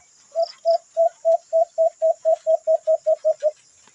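A pet kulasisi (hanging parrot) calls close by in a steady run of about thirteen short, evenly spaced notes, each one clear and alone against a quiet background.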